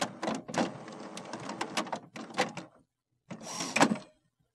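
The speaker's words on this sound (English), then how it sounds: "Wait for the printer to turn on and stop making noise." Mechanical whirring and clicking bursts from an HP Officejet Pro 8500a printer powering on and resetting after a carriage jam, several short clunks then a pause and a final grinding run, fairly close.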